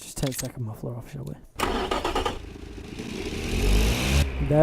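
Simulated car engine in the video game Automation, a 1.4-litre unit with its second muffler removed, cranking and starting, then idling and revving louder, while someone talks over the start.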